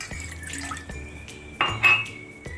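Water is poured from a cup into a pan for an apricot sheera dessert, a brief trickling splash with light clinks of glass or metal in a quiet kitchen.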